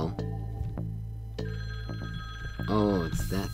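A telephone rings in the puzzle game Quantum Conundrum, a few loud electronic bell bursts followed by a warbling trill, heard close and without talk.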